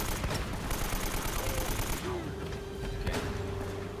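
Rapid bursts of gunfire in Uncharted: Drake's Fortune rattle loud and close under a steady game soundscape, while players chat over the shooting.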